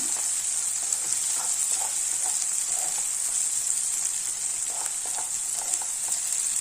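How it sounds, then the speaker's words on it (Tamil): Ginger garlic paste sautés in a pan with a steady, close hiss and occasional soft stirring taps, continuous throughout with no talking. "நம்ம இந்த ஸ்டேஜில் இஞ்சி பூண்டு விழுது சேர்த்துடலாம். பச்சை வாசனை போகிற வரைக்கும் கொஞ்சம் வதக்கிக்குங்க"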